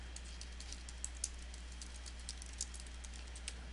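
Fingers tap out a search on a computer keyboard, a quick run of light, close key clicks over a low steady hum.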